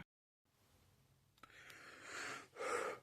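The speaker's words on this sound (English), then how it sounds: "it's a bit hot, so you may hear me breathing" A person breathing heavily on a hot, tiring day, close to the microphone, a few audible breaths growing louder, with a couple of stronger exhales near the end and no talking.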